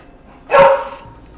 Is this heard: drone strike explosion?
no